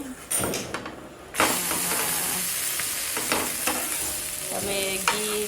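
A tortilla frying in oil or butter on a pan for Gujarati-style tacos, a loud bright sizzle that flares up after a brief quiet start and continues steadily with small crackles and bursts of stirring.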